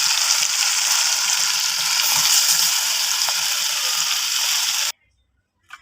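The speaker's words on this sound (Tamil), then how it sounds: "இப்போ இந்த மீனை வறுத்து எடுத்துக்கலாம். சின்ன கடாயில் எண்ணெய் வச்சுருக்கேன் பாருங்கள்." Anchovies fry in oil in a small kadai, making a loud continuous crackling sizzle up close that cuts off abruptly near the end, followed by near silence.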